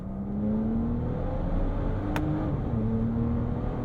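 A Bentley Bentayga Speed Edition 12 with its W12 engine accelerates hard, a steady strong engine drone rising slightly in pitch inside the cabin, with one brief sharp click partway through.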